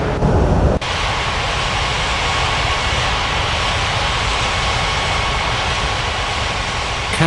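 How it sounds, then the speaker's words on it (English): A jet airliner takes off in Unmatched Air Traffic Control, its engines a loud, steady broadband roar that holds through the clip after a brief abrupt change at the start, with no voices. "Ural 3047 cleared for takeoff runway 35 right."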